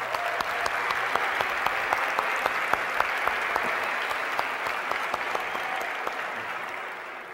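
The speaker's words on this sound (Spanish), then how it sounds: "yo le pido un aplauso para mi amigo Miguel Gallardo" An audience at a university leadership talk gives a sustained round of steady applause for Miguel Gallardo, a loud, even wash of clapping from a large crowd that tapers slightly at the end.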